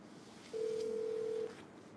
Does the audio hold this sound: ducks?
no